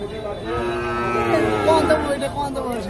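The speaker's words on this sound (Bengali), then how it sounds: "ষাঁড় গরু রয়েছে, দেখেন ক্রস।" A crossbred bull lows loudly and drawn-out at a busy cattle market in Tangail, with crowd chatter faintly beneath.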